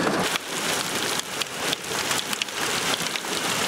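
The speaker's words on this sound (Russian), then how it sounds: "А у нас град пошел, оказывается." Hail falling during a thunderstorm makes a dense, steady patter close by, with sharper clattering bursts standing out from the constant roar.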